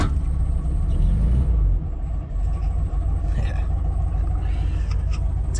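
A 1971 Volkswagen Super Beetle with freshly installed urethane suspension pulls away on a road test, its engine a low, close rumble that drops in pitch after a gear change and then holds steady.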